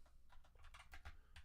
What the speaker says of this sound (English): I'm just typing, so I don't want to annoy you with the noise.